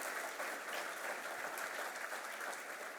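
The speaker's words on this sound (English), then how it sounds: "Let's give them both a round of applause." An audience at an economic outlook panel at a business expo claps together in a steady, even round of applause that holds through the whole stretch.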